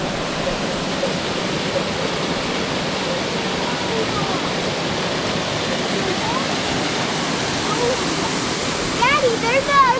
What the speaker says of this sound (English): the waterfall is pretty nice